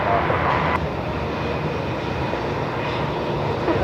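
Jetstar Airbus A321 jet arriving at Melbourne Airport, a steady broadband engine roar at moderate distance, even and continuous throughout with no clear rise or fall.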